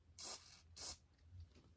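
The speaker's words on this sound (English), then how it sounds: "We're gonna just spray it into there." Two short bursts of flushing-action contact cleaner sprayed into the potentiometers of an IBM 5153 color monitor, each a sharp hissing blast of about half a second, close and distinct, separated by a brief pause.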